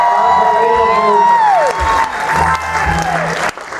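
Applause and cheering from a game show audience aboard the Carnival Breeze cruise ship, loud and sustained across the moment, with whoops and a lively crowd while a voice and music carry over the top.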